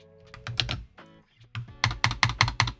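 Computer keyboard keys are pressed while working in an Excel spreadsheet, close clicky taps in short clusters, a pause, then a quick run of several keystrokes.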